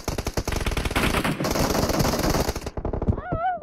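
Heavy automatic gunfire in a first-person team deathmatch shooter, with dense overlapping bursts of rapid shots, loud and close, that stop abruptly near the end, followed by a brief whistling tone.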